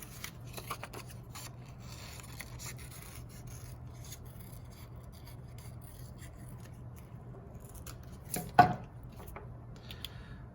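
Scissors cutting paper oval shapes for a Frankenstein collage, with quiet close snips and rasping rubs scattered through the clip over a low hum, and a sharper louder cut near the end.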